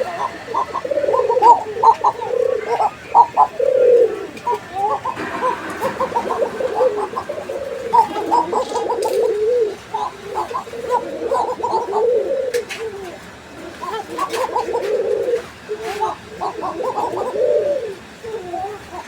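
Several Arabian coca pigeons coo continuously at close range, with repeated low, rolling calls overlapping through the whole stretch, while people talk faintly in the background.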